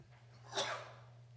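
A single short sneeze bursts out at a city council meeting, fairly faint and distant in the room over a steady electrical hum.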